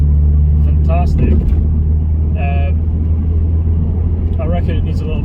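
Loud, steady engine rumble from a straight-piped BMW 123d diesel exhaust with 240,000 miles, droning throughout, with someone talking over it in a few short bursts.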